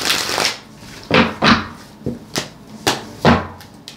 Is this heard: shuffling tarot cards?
yes